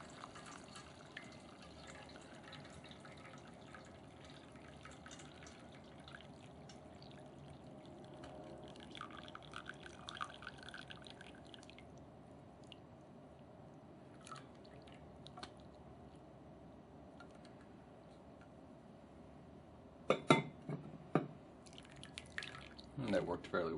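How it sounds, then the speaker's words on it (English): Dashi broth is strained through a coffee filter as a steady, soft trickle and drip, growing into louder splashing pours near the end, with a voice present at times. "I'm going to try to strain it through a coffee filter"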